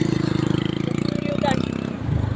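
A motorcycle engine idles with a steady close thudding pulse, while people talk over it.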